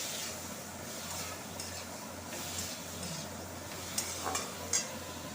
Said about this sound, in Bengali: কড়াই বসিয়ে দিয়েছি এবার আমটা ছেড়ে দেবো আমটা ছেড়ে দিয়ে একটু নাড়াচাড়া করে